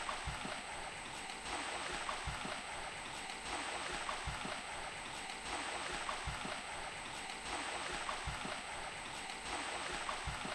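Water released from a dam rushes steadily and continuously, a broad even roar like a strong stream, with no voices.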